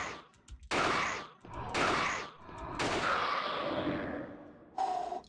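Gunfire in the survival horror game Alone in the Dark: A New Nightmare: several loud, heavy shots in quick succession, each with a long echoing tail, the last one short and sharp.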